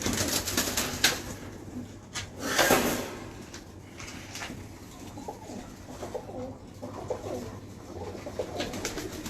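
Kasuri pigeon cooing at a Pakistani pigeon club, soft low coos drifting through a busy room tone with a few wooden knocks and a brief rustle partway through.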